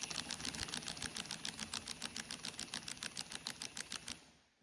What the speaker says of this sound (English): let's try the impact wrench and see if I can just hold it